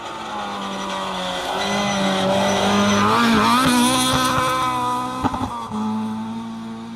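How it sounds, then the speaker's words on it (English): A rally car on a forest stage of the Nicky Grist Stages climbs a hill with a loud, rasping engine, revving up through the gears with rising whines, then a few sharp pops and a shift near the end. "There we go, rasping along up the hill. Sounds great, that car, doesn't it?"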